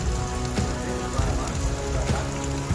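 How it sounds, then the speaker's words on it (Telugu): Heavy rain pouring on the flooded Dornakal railway station during a cyclone, a dense loud patter on surfaces with a few sharper drips, continuous throughout. "విపరీతమైన వర్షంతో నిన్నటి నుంచి"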